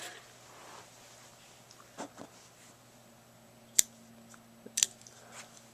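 A Microtech Ultratech out-the-front knife fires its blade open and snaps it closed with two sharp, crisp metallic clicks about a second apart, over quiet background hiss and a few faint handling ticks.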